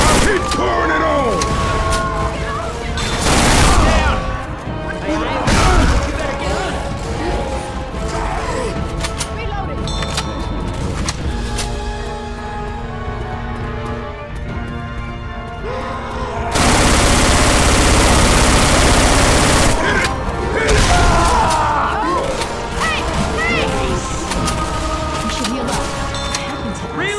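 Gunfire aimed at the Tank in the Left 4 Dead 2 shore rescue, loud and busy bursts of shooting with booms, a dense sustained fusillade in the middle, set against constant game noise and occasional voices.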